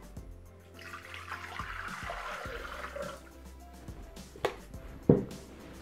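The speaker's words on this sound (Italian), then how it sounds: "Senza lavare il boccale, versiamo all'interno l'acqua." Water poured into the bowl of a Thermomix TM6 food processor during Italian pasta cooking, with a soft, continuous trickle and splash at moderate distance followed by a few sharper knocks and clunks near the end.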